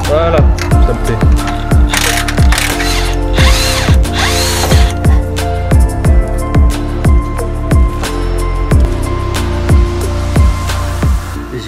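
A ratchet wrench works a fitting on an Audi S4 B8 during a short-spring install, with repeated close, loud clicking strokes in quick rhythmic bursts and brief pauses between turns.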